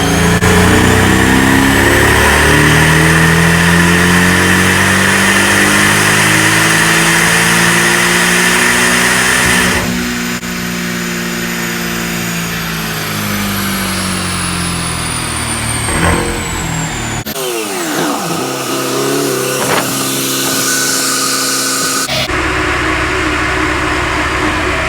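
A Porsche 718 GTS with an APR Stage 1 93-octane tune revs hard on a dyno, the engine climbing loudly through a long sweep, then dropping off and settling into lower, uneven running before another brief burst.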